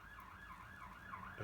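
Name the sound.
ambulance siren passing outside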